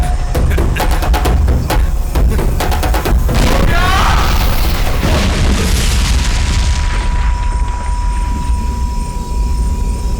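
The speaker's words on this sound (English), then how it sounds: "It's a big explosion." A big movie explosion hits with a loud, sustained roar and rumble, rolling debris crackles fading into a steady ringing drone.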